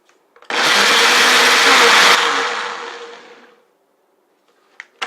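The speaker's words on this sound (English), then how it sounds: "Into my blender, and I'm going to blend it until it's smooth." A blender whirs loudly for a few seconds at high speed, then winds down and stops, followed by a couple of light clatters.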